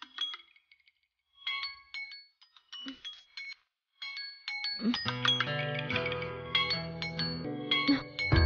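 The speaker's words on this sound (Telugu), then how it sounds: "నీ ఫోన్ రింగ్ అవుతుంది." A mobile phone plays a chiming, bell-like ringtone, starting with sparse tones after a quiet moment, then building into a fuller, louder melody that repeats steadily nearby.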